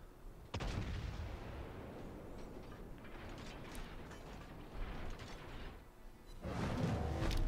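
In the World of Warships video game, the battleship Scharnhorst fires its naval guns with a heavy booming salvo. Mechanical rumble and clatter roll on after it, and a second loud burst starts near the end.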